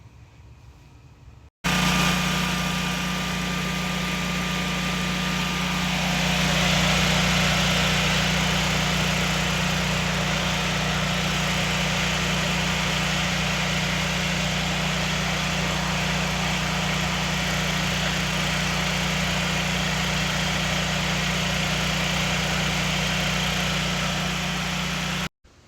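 A Generac generator engine runs steadily at a loud, even idle drone for about twenty-five seconds, starting abruptly and cutting off at the end, with no talking.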